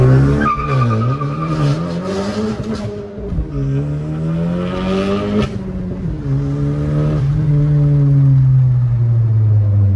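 A car with a Camaro E85 tune and bolt-ons, or a Civic Si FBO, squeals its tires hard and loudly for ten seconds while warming them before a race, with a long, wavering, high-pitched screech over a droning engine.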